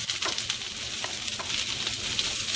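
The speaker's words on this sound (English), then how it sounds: "I'm going to saute these peppers and onions" Peppers and onions sauté in a pan with a steady, close sizzle and a few soft stirring scrapes, with no talking.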